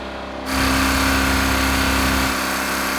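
A car engine running without engine oil revs hard at full throttle, a loud, sustained droning roar with a steady tonal hum that surges in abruptly after a brief quieter start.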